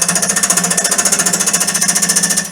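A wood lathe turns an off-centre goblet blank, chisel cutting away excess wood; a loud, steady rapid chattering thump pulses evenly from the spinning unbalanced piece, close by with no talk.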